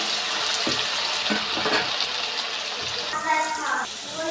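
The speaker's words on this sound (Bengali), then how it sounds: "তো এখানে আমার আলু পটলগুলোও ভাজা হয়ে গিয়েছে" Potato and pointed gourd pieces fry in hot oil with a steady, close sizzle, broken by a few stirring scrapes and a brighter crackling burst near the end; no one speaks.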